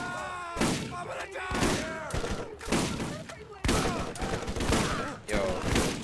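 Shotgun blasts in the video game Borderlands: several loud, sharp bursts fired at irregular intervals, each with a booming tail, with game sounds filling the gaps.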